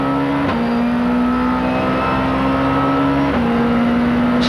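BMW touring cars race at Paul Ricard in the 1995 Supertourisme championship, engines holding a loud, steady high-revving drone with two sharp gear-change dips, no voices over the continuous roar.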